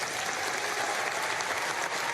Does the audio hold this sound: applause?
yes